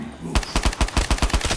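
Rapid automatic gunfire in a Black Ops 3 custom zombies gun game map, about ten sharp, loud shots in an even burst after a brief quiet start.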